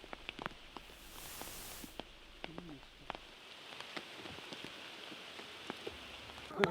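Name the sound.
monsoon rain falling in the Malnad hills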